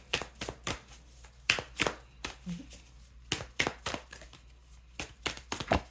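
A deck of cards being shuffled by hand during a card reading, heard as sharp crisp bursts of riffling and tapping that come in irregular clusters, close and fairly loud, with no voice over them.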